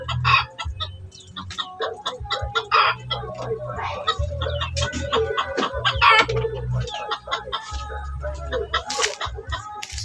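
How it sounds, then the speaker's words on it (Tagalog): Wild junglefowl (labuyo) clucking and calling close by in repeated bursts over a steady low hum, with a crowing-like call, while people talk intermittently. "Itong labuyo na to."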